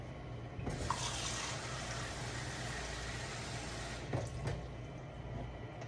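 Hot tap water runs steadily into a measuring cup for Hamburger Helper beef pasta, a continuous close splashing fill lasting several seconds with a couple of small clinks near the end.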